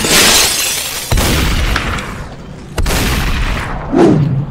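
Glass shatters in the Superhot shooter game in two sharp, loud crashes, each followed by a tinkling spray of debris. A quick whoosh closes the sequence.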